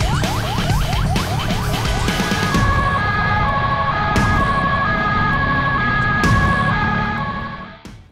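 A wailing ambulance siren on an Indonesian road, rising sweeps at the start giving way to a steady alternating tone, loud and close with traffic rumble underneath, fading out at the end.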